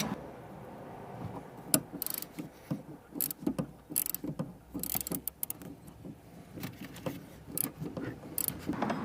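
A ratchet tightening a top bolt on a car's rear suspension shock absorber, producing irregular bursts of rapid clicking and metallic clatter, close by, with brief pauses between strokes.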